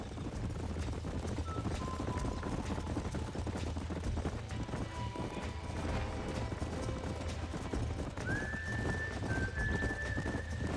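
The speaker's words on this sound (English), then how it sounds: "These are fine horses." Horse hooves clip-clopping steadily in Red Dead Redemption, a continuous close rhythm over low background rumble, with a brief rising whinny-like tone near the end.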